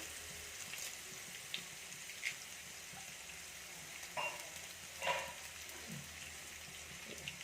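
Onion, shallots, garlic and curry leaves frying in oil in a home kitchen, a steady soft sizzle with a few faint clinks of a spoon against the pan, no voices.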